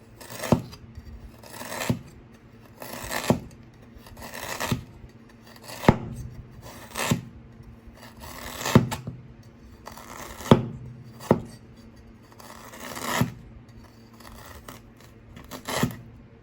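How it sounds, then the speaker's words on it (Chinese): Knife slicing fresh ginger into thin slices on a cutting board, a dozen or so crisp separate cuts at a slow, regular pace of roughly one per second, close and clear with no talking. "接着把生姜切成这种厚厚的薄片，"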